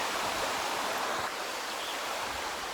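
A mountain creek rushes steadily close by, a dense, even wash of flowing water that fills the whole moment without pause or other sounds.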